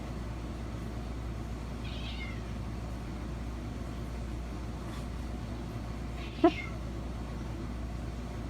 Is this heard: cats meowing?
yes